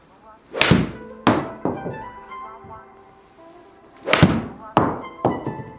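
Sharp, crisp thwacks of a golf club striking a ball, two pairs of hits a few seconds apart, with faint ringing afterward.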